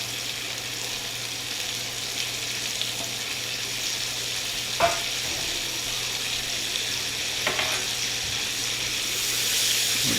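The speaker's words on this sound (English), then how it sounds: "We're going to add our thinly sliced onions." Thinly sliced onions sautéing in a hot pan for a chicken burrito, a steady, moderately loud sizzle and hiss that runs throughout with a few faint stirring clicks and no voices.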